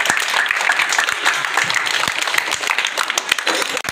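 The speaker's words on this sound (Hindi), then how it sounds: "ताली बजाओ सब लोग" Audience clapping fills a school Teachers Day celebration, a lively crowd of many hands with sharp individual claps standing out, loud and sustained until a sudden dip at the end.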